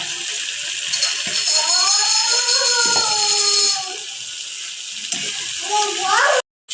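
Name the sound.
spice paste frying in a pan for fish curry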